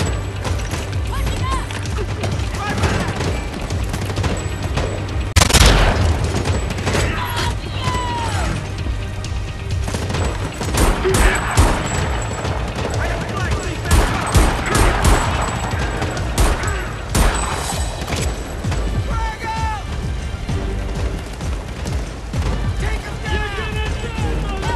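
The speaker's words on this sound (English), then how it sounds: "There are more rockets." Gunfire rattles in bursts around booming rocket explosions in the video game Homefront: The Revolution, dense and loud throughout, with one sharp blast standing out and voices talking occasionally over the combat.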